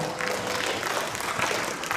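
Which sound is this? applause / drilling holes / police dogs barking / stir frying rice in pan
applause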